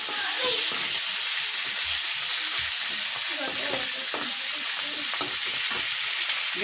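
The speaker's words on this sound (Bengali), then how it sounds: "হালকা করে ভেজে নিচ্ছি। একটু জিরা, দুটো শুকনো লঙ্কা," Cumin seeds and two dried red chilies fry lightly in hot oil with a loud, continuous sizzle and hiss, close up, while a utensil stirs with scattered scraping and tapping.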